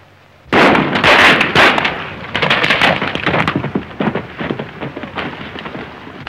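A burst of loud, sharp gunshots from the 1935 film "Goin' to Town" cracks out, followed by a rapid, uneven string of smaller pops and bangs that slowly thin out.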